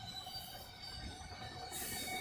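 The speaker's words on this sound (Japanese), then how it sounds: "あれ貨物列車" A freight train rolls steadily past in a continuous, moderately close rumble with faint wheel squeal and rail noise, with no talking.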